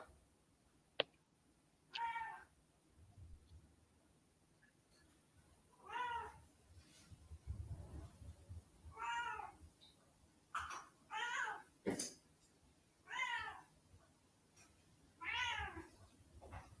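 A cat meows repeatedly, about seven drawn-out cries spaced a second or two apart, fairly close, with soft background shuffling between them.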